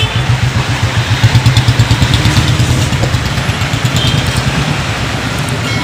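Motorbikes labor over a badly broken road in Shivalik City, Kharar, their engines a close, steady low rumble with a pulsing throb that swells and eases across the stretch, with no talking.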